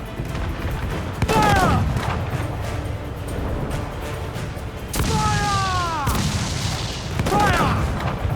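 Broadside cannon fire from a sailing warship in Assassin's Creed IV Black Flag, heavy booming volleys in a few bursts, with crew voices shouting between them over steady sea-battle noise.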